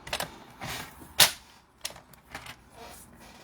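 Card stock for a hand-stamped fall card is cut with a trimmer, a few sharp clacks and sliding scrapes spaced irregularly, one loud snap standing out, with no voices.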